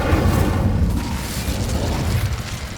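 A roaring, rumbling burst of flame from the Incendio fire spell in the Hogwarts Legacy video game fills the clip with dense, continuous low-heavy noise, loud and sustained for about three seconds.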